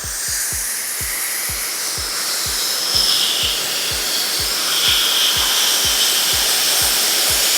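Hair dryer fitted with a concentrator nozzle blowing hair during a blowout, a loud steady airy whoosh running nonstop up close, with a regular low ticking pulse beneath it.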